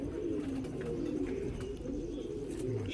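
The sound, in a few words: pigeons cooing on a rooftop loft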